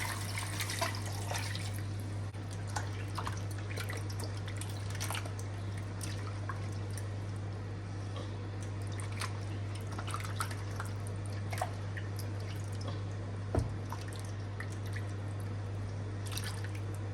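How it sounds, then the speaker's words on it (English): Cut yam being washed in a bowl of water, with scattered drips, small splashes and trickles over a constant low hum, fairly close and quiet, no one speaking. "put them in a bowl and give it a good wash"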